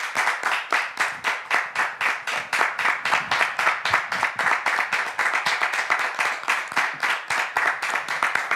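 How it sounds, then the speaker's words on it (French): A studio audience claps steadily for a guest walking onto a French talk-show set, dense rhythmic applause holding at an even level for the whole stretch with no voices over it. "on va le faire entrer, mais avec des applaudissements pour lui donner du courage"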